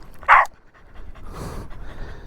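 A dog pants in quick, close breaths after a sharp whimper-like yelp, short and near, with light background noise and no talk.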